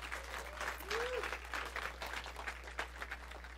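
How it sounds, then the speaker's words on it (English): Church congregation giving the Lord loud, sustained applause, a dense wash of many hands with scattered sharper claps, a brief voice rising through it and a steady low hum underneath. "Give the Lord a thunderous applause"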